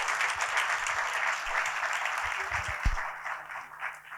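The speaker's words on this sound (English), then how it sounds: "let's give all of our honorees this year a warm round of applause" A ceremony audience at a Morehouse honors event gives a warm round of applause for the year's honorees: dense, steady clapping filling the room for the whole stretch, with a few louder claps standing out near the end.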